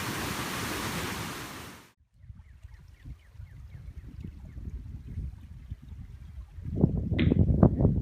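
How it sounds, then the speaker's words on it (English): Early summer cropland runoff water rushing toward Dead Creek, a loud broad wash at first that cuts off, then a softer irregular gurgling flow that builds again into splashing surges near the end. "This early summer cropland runoff is headed for Dead Creek watershed, which flows into Otter Creek,"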